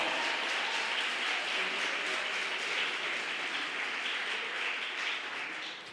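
A church congregation applauds in praise, a broad wash of many hands clapping steadily for several seconds, moderately distant and sustained before tapering slightly at the end.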